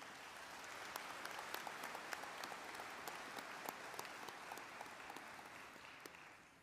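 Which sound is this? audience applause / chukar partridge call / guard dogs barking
audience applause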